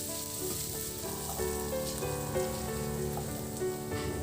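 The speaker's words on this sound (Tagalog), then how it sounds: "ng mantika sa kawali, painitin at igisa na rin yung bawang. Ihalo lang at isabay ko na rin yung luya." Garlic and ginger sizzle steadily in hot oil in a pan, a dense, even crackle close up with no voices over it.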